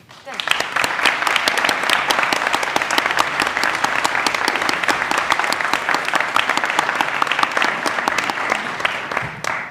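Sustained, dense applause from an audience at a staged mock trial of Napoleon Bonaparte, steady and loud for nearly ten seconds with countless overlapping claps.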